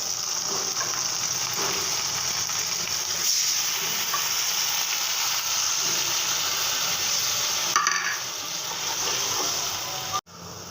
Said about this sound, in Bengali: তো এখানে আদা রসুন, হলুদ মরিচের ফাঁকি, ধনের ফাঁকি ও স্বাদ মতো লবণ দিয়ে কষিয়ে নেব।